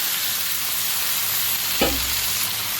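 Marinated chicken dropped into a hot pan with onion and tomato, a steady broadband sizzle with a sharp burst of frying as it lands, continuing close and loud.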